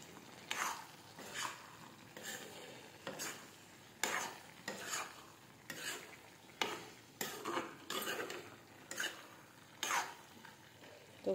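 Mixed winter vegetables (cauliflower, potato, peas and eggplant) are stirred and roasted in a pan with salt, giving steady rhythmic scraping strokes about once a second over a soft sizzle, close and moderately loud.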